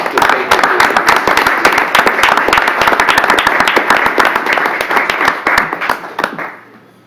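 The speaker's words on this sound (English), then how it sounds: "So if we can give her a round of applause to thank her." An audience claps at a school board meeting, dense and loud with individual hand claps standing out, holding steady before thinning and fading away at the end.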